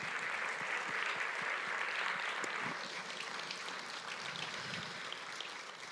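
Congregation applauding in a church service, a dense steady wash of many hands clapping that carries on for the whole stretch, easing slightly in loudness toward the end, with no talk over it.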